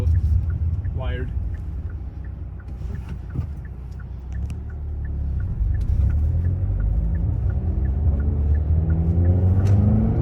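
A 2021 Hyundai Veloster N with a 6-speed manual rumbles along under driving, its exhaust a steady low drone rising slightly in pitch, with faint ticking and someone talking over it.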